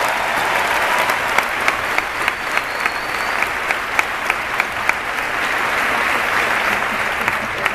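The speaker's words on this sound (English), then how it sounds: "give them a round of applause" A conference crowd at a 2013 Beachbody coach summit bursts into sustained, dense applause, steady and loud throughout with a few sharper claps standing out.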